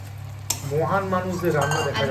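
A metal spoon stirs food in a cooking pot on a home gas stove, with one sharp clink followed by scraping and rattling against the pot while a voice speaks faintly alongside.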